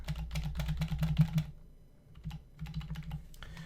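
Rapid keystrokes on a computer keyboard while checkout details are entered, a dense clicking burst that pauses briefly near the middle and then resumes, close and fairly quiet with no voices.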